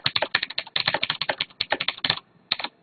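Hard, rapid typing on a mechanical keyboard with clicky Cherry MX Blue switches, keys bottomed out forcefully in a dense clattering burst, a brief pause, then a few more loud keystrokes up close, with no talking.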